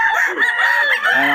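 Chickens and roosters at a crowded poultry market in Bocaue, with a loud rooster crowing close by over steady clucking from the birds.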